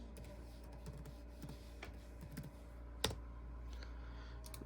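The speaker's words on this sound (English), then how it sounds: "Type in my password." Someone types a password on a computer keyboard to log into a Raspberry Pi NAS. Faint, sparse keystroke clicks with one sharper tap midway sit over a steady low room hum.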